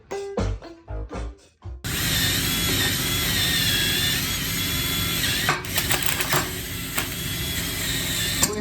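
MIG-style welding on a Damascus steel billet, a steady crackling buzz held for about seven seconds with a few brief breaks, close and fairly loud after a handful of short clanks at the start.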